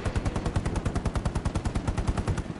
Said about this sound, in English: there's an MG somewhere